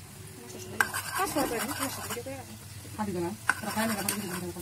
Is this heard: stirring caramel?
yes